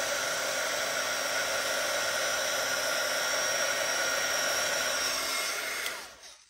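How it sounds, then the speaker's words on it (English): A heat embossing tool blows hot air over embossing powder on a bird-themed card, a steady loud hiss that runs several seconds and then cuts off near the end. "let me grab my heat tool and we will heat it"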